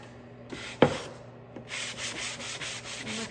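Sandpaper rubs on wood for a DIY plant riser, a few close, raspy scrubbing strokes with a sharp scrape near the start, then a steadier rhythmic back-and-forth, with no talking.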